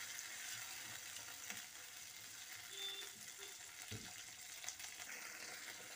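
Onions sizzling in a pan as water is added to caramelize them for a chicken sauce: a faint, steady frying hiss with brief watery bursts, no talking.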